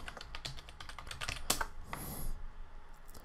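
Quick keystrokes on a computer keyboard tap out a password in an irregular burst of clicks, fairly quiet and close, ending with a firmer keypress and a soft rustle.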